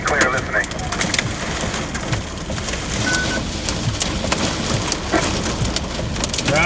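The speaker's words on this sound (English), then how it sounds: "maybe see some of this hail. It's gotten smaller now. It's mostly just pea size." Pea-size hail falls during an April storm in Ohio, a dense steady patter and rattle across the whole stretch, with a voice talking over it.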